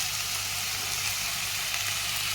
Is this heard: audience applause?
no